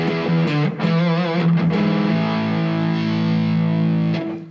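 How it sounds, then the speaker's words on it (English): Electric guitar played through a distortion pedal, heavy saturated chords and picked notes ringing out loud and close, then a held chord sustaining before cutting off. "I'll turn the distortion down."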